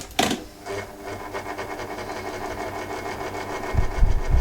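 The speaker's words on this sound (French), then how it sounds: "Roventa Turbo Silence Extrême. Alors là, le silence il est pas extrême." A Rowenta Turbo Silence Extreme electric fan running noisily, with a steady whirring drone and rhythmic rattling, close and fairly loud, with a sharp clunk at the start and thumps near the end.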